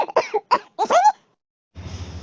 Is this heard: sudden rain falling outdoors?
no